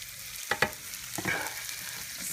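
A pot of onions is stirred over heat, a continuous frying sizzle broken by a few quick scraping spoon strokes, close and moderately loud.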